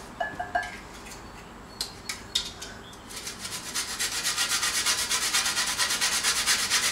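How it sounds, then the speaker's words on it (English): A lemon is rubbed against a grater for zest, first a few scattered scrapes, then a run of quick, rhythmic rasping strokes close up, with no talking. "you want just the zest of 1 lemon"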